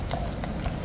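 Horses of the King's Guard clip-clop past on pavement in a short, steady run of hoof strikes heard through a dense outdoor crowd murmur.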